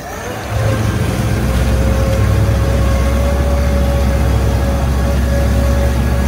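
Suzuki outboard motors on a 2002 Triton boat run in reverse with a steady, loud low engine drone and churning water that holds constant throughout.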